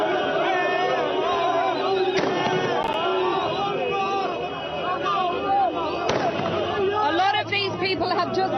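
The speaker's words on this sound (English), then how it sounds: "there are fireworks being lit, guns going off everywhere" Fireworks and celebratory gunfire in the streets of Tripoli, Libya, sharp bangs and crackles going off amid a loud, continuous crowd hubbub with voices chattering throughout.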